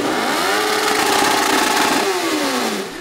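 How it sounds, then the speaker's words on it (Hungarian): Loud motorcycle engines rev up and down nearby, pitch rising and falling in sweeping roars over a continuous rumble. "Nagy hanggal megszólaló motorok"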